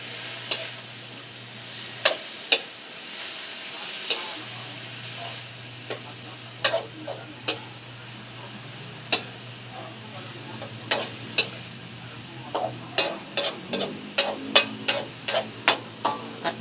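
Ingredients sautéing in a pan in a home kitchen, a soft steady sizzle under repeated sharp clinks and scrapes of a utensil against the pan, quickening toward the end, with a low hum throughout.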